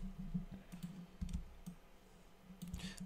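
Computer keyboard keys tap in short, uneven bursts of clicks, close and fairly quiet, with brief pauses between strokes.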